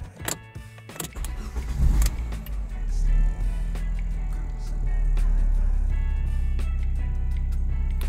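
A Fiat car engine cranks and catches after a few clicks and a short whirr, then settles into a steady, low, close idle that continues to the end with no talking.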